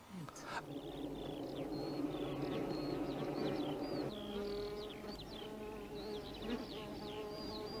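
A swarm of honey bees hums in a low, steady drone throughout, with faint chirps from birds or insects scattered over it at a moderate, fairly quiet level.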